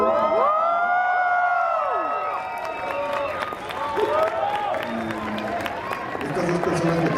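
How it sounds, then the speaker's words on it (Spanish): A crowd at the Mexico premiere of the film Babylon cheers and applauds, with high shouts and whoops rising over a bed of clapping and crowd noise, loud and close. "¿Me podrían dar un aplauso a Damien Chazelle y a Olivia?"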